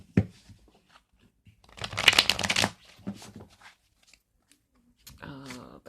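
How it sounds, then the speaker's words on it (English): Arcana of Astrology tarot cards being shuffled by hand, a dense riffling burst in the middle with softer card handling around it, close by, with brief talking near the end. "So they're gonna shuffle really well."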